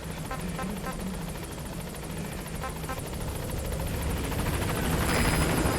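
The Pequod helicopter from Metal Gear Solid V approaches with a loud, continuous rotor thrum and engine whine that swells steadily as it draws nearer.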